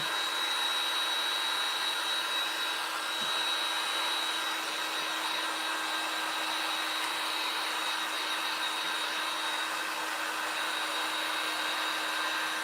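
A handheld dryer blows steadily on a wet craft project from an October craft box, giving a continuous close, loud whirring hiss with a faint tonal hum that holds level the whole time, with no talking.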